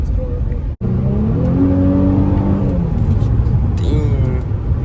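A Nissan G35 accelerating hard on a test drive, engine note climbing in pitch as it pulls after a brief cut, loud and close inside the cabin, with people talking over it.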